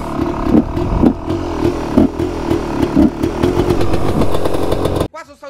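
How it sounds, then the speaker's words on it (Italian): A Beta 300 two-stroke motorcycle engine runs close by, a loud, rough, pulsing idle with irregular throttle blips before it cuts out abruptly near the end. "Intanto accendo la moto."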